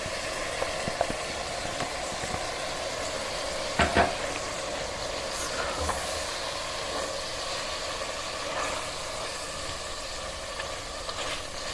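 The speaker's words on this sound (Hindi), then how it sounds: "तीन से 4 मिनट के लिए मैं इसको तेज़ आंच पे भूनूंगी।" Marinated meat with softened onions frying on high heat, a dense, steady sizzle filling the pan, with occasional scrapes and knocks of a stirring utensil and a low hum underneath.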